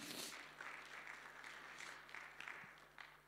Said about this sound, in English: Clap for the Lord for that.